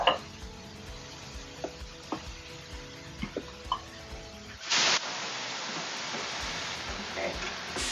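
Ground beef browning in a nonstick pan for sloppy joes: a few scattered clicks and scrapes of stirring, then a loud, steady sizzle that takes over and holds to the end.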